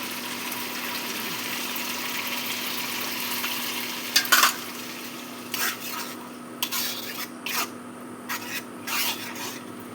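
Spice paste sautés in hot oil for a fish curry, giving a steady close sizzle and fry hiss throughout, with a few louder scraping stirs breaking through in the second half and no talking.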